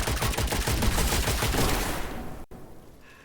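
Rapid gunfire from shooting an enemy in the video game Witchfire, a dense burst of loud, close shots for about two seconds, then an abrupt cut to a quieter tail.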